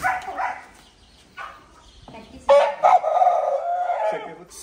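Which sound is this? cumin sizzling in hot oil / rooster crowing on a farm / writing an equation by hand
rooster crowing on a farm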